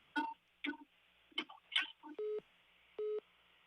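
Telephone dialing to a post office: four short touch-tone key presses at an uneven pace, then two longer steady ringback tones, faint and clean over a quiet line.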